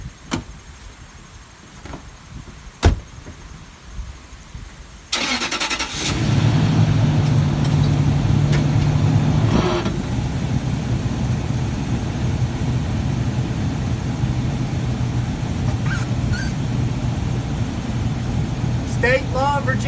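Car door thunks shut, then an engine starts and settles into a steady idle and drive hum, with a brief whine near the start and a voice speaking occasionally over the running motor.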